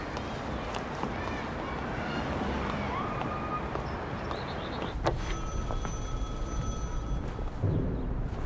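Telephone ringing in a room during a romance film scene, a repeated electronic ring arriving midway over busy background noise and movement, moderately loud and nearby.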